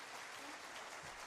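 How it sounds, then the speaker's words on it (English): A studio audience gives a round of applause, a steady wash of clapping with no breaks that is fairly faint and continuous. "So give yourselves a round of applause."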